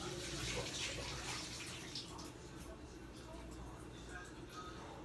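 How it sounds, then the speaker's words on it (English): Soaking water being poured off deer meat, a broad splashing wash of liquid that starts strong and then settles into a steady, softer trickle close by. "I'm pouring this, trying to squeeze all this extra water out."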